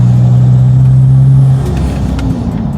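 A 2GD biturbo car engine idles with a steady hum, then the throttle is blipped and the engine revs up with a rougher, louder rumble before settling, heard close and without talk.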